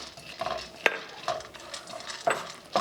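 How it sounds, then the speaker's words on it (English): A cup of pine nuts being toasted in a pan and stirred, with a few scraping, clattering strokes of the utensil against the metal at an uneven pace, close and fairly clear. "I'm going to put it in here and start toasting it."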